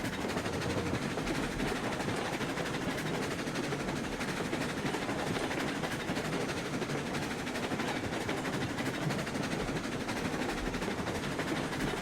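A locomotive in the video game RailRoads Online labours uphill with a steady, dense mechanical rumble and hiss that runs unbroken at an even level, with no voices.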